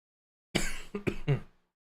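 A single close throat-clearing cough burst, a raspy hack followed by a couple of short rough catches, then silence.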